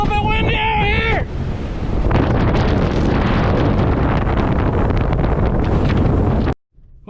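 Gusting wind from an Idaho wind storm over a potato field roars loudly and continuously, with a brief voice near the start before the noise cuts out.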